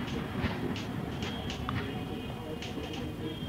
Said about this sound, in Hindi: ये ट्रेन जा रही है और ये ट्रेन आ रही है सदर्न रेलवे।